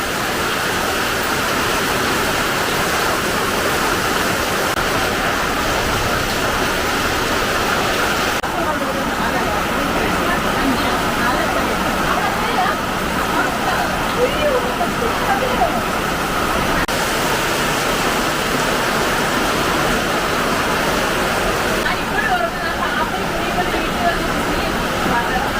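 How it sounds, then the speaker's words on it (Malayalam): Heavy rain driven by strong wind roars in a dense, unbroken wash, loud and close for the whole stretch, with gusts swelling the noise. "ഈ പെയ്തുകൊണ്ട് മഴയും കാറ്റും ഒരുമിച്ച്."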